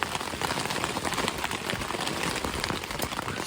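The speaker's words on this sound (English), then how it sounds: "as you can hear, it is still raining" Steady rain pours down outdoors in the morning, a dense, even hiss of drops spattering on surfaces nearby for the whole stretch with no voices over it.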